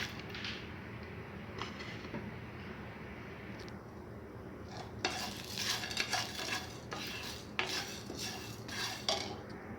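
Whole spices dry-roast in a pan as a spoon stirs and scrapes them, giving a continuous rattling, scraping texture that grows busier and louder partway through.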